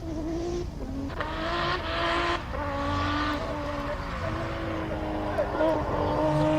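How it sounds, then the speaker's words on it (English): A race car launching at the Simola hillclimb, its top-exit exhaust giving a sustained, wavering engine roar that rises and falls, heard from a spectator area, with a commentator talking over it. "Don't think that's quite how you want to launch a car."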